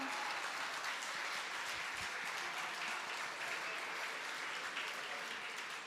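A church congregation applauds a song, a dense, steady wash of clapping from many hands that holds at an even level throughout without pause.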